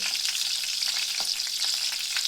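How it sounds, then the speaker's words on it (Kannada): Fish coated in semolina with chili powder and salt fries in a pan, giving a steady, close, dense sizzle with small crackling pops throughout and no talking. "ಮೆಣಸಿನ ಪುಡಿ ಮತ್ತು ಉಪ್ಪು ಇಷ್ಟೇ ಮಿಕ್ಸ್ ಮಾಡಿ ಫ್ರೈ ಮಾಡ್ತೀನಿ ನೋಡಿ ಫ್ರೆಂಡ್"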